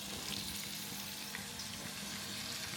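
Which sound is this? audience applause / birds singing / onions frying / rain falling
onions frying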